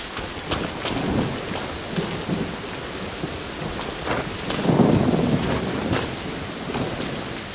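Steady rain with rumbling thunder from a Genshin Impact thunderstorm, a constant wash of falling rain broken by deep rolls of thunder, one swelling louder near the middle, with no talk.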